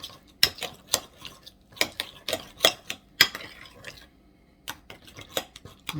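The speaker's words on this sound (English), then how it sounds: "you just kind of mix it up until it becomes a nice sauce that you like" Utensil stirring sauce ingredients in a bowl for collard green spring rolls, a run of sharp clinks and scrapes in uneven bursts, close and fairly quiet, with pauses between strokes.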